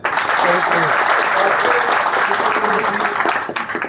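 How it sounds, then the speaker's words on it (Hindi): An audience claps loudly for a guest leader, Mr. Jignesh Bhai, at a gathering. The dense, steady applause fills almost four seconds and fades at the very end, with a few voices murmuring underneath. "उनके लिए जोरदार तालियां"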